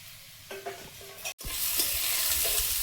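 Potatoes and pointed gourd frying in oil with black cumin, a soft crackling sizzle with a few spatula knocks, a brief cutout midway, then a louder steady hiss.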